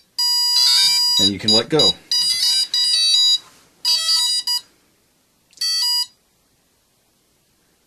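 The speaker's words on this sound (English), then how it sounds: "you can move the throttle all the way down to idle, and you'll get another confirmation beep" A series of high electronic beeps and tonal chirps from a quadcopter's ESCs arming, several short bursts with pauses between, plus a rising tone sweep and a brief voice speaking.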